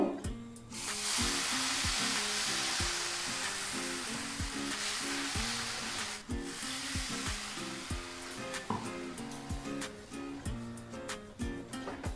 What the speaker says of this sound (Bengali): এবার এখানে দুধ মিশিয়ে নেব।